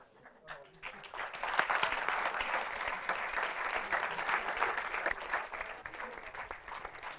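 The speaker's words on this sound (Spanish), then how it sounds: "Un fuerte aplauso para ella, ¿verdad?" An audience at a crowdfunding and entrepreneurship platform presentation gives the speaker sustained applause, rising quickly to a full, close wall of clapping that holds steady with a few voices mixed in.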